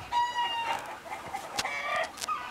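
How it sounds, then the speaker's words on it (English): Chickens cluck in a run of bright, repeated calls with a crow-like note or two, close and fairly loud against quiet outdoor background, with no talking. "There goes the chickens going off again a little bit."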